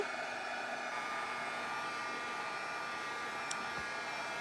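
A heat gun gives a steady, continuous blast of hot air, a whining electric hum that holds level throughout with no pauses, close to the listener.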